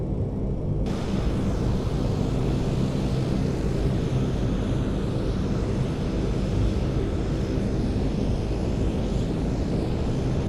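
An airplane landing on a runway, its engine roaring as a loud, steady, broad rumble that holds without a break throughout.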